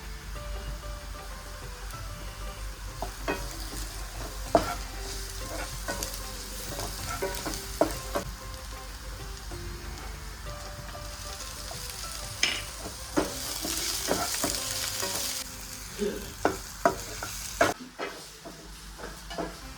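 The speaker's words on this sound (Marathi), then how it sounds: "आता त्यामध्ये मी वाटलेलं लसूण आणि टोमॅटो घालून भाजून" Ground garlic paste and tomato frying with browned onion in a pan for a bottle gourd curry, a soft continuous sizzle with scattered clicks and scrapes of stirring, quieter near the end.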